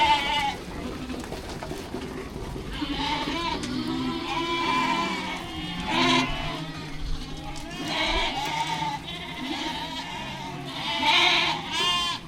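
Ewes and lambs bleat repeatedly on a farm as the flock is moved back after drenching and dagging, several animals calling over one another at close to middle distance with a steady background hum.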